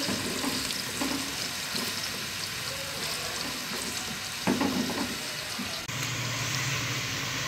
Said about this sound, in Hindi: ये कटी हुई प्याज। तो अब हम इसको गोल्डन ब्राउन कलर देंगे।